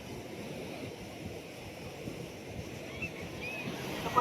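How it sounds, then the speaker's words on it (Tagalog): Large sea waves roll in along a long beach boulevard, a steady broadband surf roar with wind buffeting the microphone throughout, no distinct breaks. "Kasi puro malalaki yung alon."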